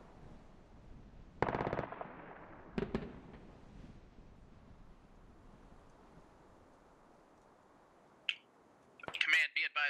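Distant bursts of vehicle-mounted gunfire from an MT-LB in the military video game Squad, two short rattling volleys early and then quieter pops, with player voices talking over the later part.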